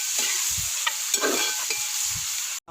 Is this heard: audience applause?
no